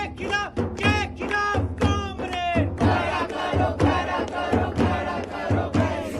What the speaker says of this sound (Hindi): नारेबाजी के वक्त लेफ्ट विंग के छात्रों की भारी भीड़ थी